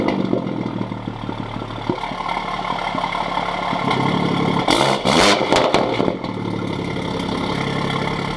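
A 500 bhp BMW M140i engine runs close by at a steady idle, with a brief loud burst near the middle, then settles back to an even rumble.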